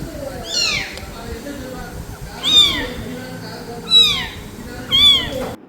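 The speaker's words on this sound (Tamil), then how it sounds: "இவ்வளோ க்யூட்டாக வந்து பூனைக்குட்டி வந்து கத்திட்டு இருந்தது" A kitten meows repeatedly at a relative's house during a Pongal celebration, with four or five high, plaintive cries spaced a second or so apart, loud and close over faint background sounds.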